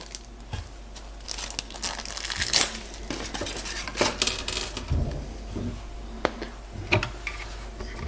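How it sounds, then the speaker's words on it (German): Hands rummage through a plastic bag of screws, giving irregular crinkles, rustles and small metallic clicks up close, with no one speaking. "Jetzt haben wir irgendwo die Tüte mit den Schrauben hier."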